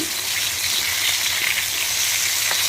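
Fish fries crisp in hot oil in a home kitchen, a loud, close, steady sizzling hiss with faint bubbling crackle and no talk over it.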